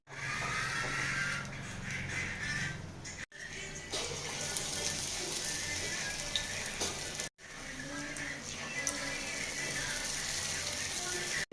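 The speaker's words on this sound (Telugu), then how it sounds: "నూనెలో ఫ్రై చేయాలి" Dahi vada batter frying in hot oil for an Odisha-style dahi vada, a steady broadband sizzle that runs continuously for the full stretch, broken by two brief gaps, with no talk.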